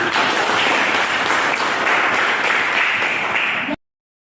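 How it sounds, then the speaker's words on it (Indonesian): Students in a high school classroom guidance session burst into loud, dense applause that holds steady for several seconds and then cuts off abruptly. "berikan tepuk tangan"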